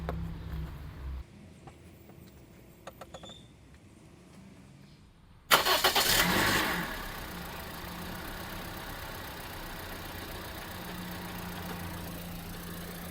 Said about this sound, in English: I'll leave the mic here so you can hear the engine.